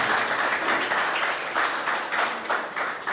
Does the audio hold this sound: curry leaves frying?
no